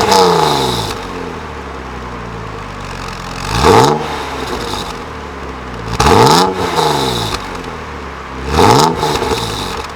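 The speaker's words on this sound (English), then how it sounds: "A lot better than the stock exhaust." BMW E36 M3 with a new aftermarket exhaust idles with a steady rumble, then revs sharply three times in spaced bursts, each rising and falling quickly, heard close and alone.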